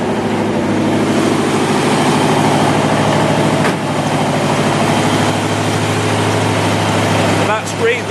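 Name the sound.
1966 Corvette Stingray engine idling on choke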